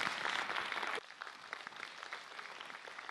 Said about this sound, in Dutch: Nog een keer een applaus voor Naomi en voor Britt.